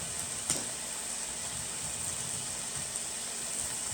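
Fresh corn cut off the cob fries in butter in a pan, giving a steady soft sizzle and hiss with one brief crackle early on, close and fairly quiet, no talking.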